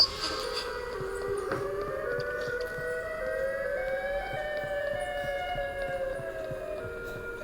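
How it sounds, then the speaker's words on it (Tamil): Siren Head in a backrooms video game sends out a steady, distant, wailing siren with several layered tones that drift slowly in pitch, sustained and fairly faint over a low background rumble. "அங்கே வந்து சைரன் மூஞ்சி வராண்டா, சைரன் மூஞ்சி வராண்டா."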